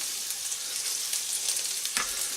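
Oil sizzles and crackles steadily as spring onions fry in a pan, a bright hissing fry with a small clatter near the end, no voices.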